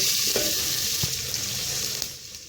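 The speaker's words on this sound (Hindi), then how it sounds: "प्याज हम अपनी फ्राई कर रहे हैं।" Onions fry in a pan for aloo keema, giving a steady sizzling hiss with a few faint stirring clicks, close and continuous with no talking.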